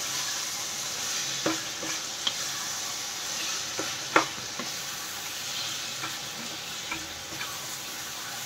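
Fried hilsa fish heads are stirred into taro greens in a sizzling pan, a gentle frying hiss broken by scattered scrapes and taps of a utensil against the pan, no voices.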